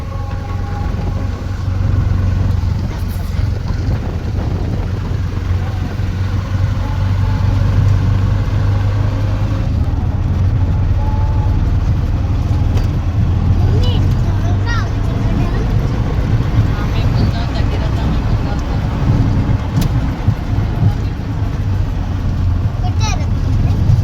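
An auto-rickshaw ride to Kankavli railway station: a steady low engine drone and road rumble run throughout, with faint voices now and then.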